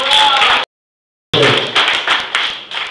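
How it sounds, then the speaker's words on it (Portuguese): Applause from a congregation at a church service, two bursts of steady clapping with a short silent break between them. "Uma salva de palmas a Jesus"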